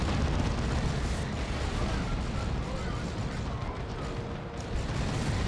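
Explosions and missile fire from the Dawn of War II: Retribution video game, including Cyclone missiles striking tanks, form a dense, continuous roar of overlapping blasts and rumbling impacts throughout.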